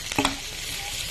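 Tomatoes added to a hot pan sizzle and fry as they are stirred, a sharp burst of clatter and crackle at the start, then a steady soft hiss close by.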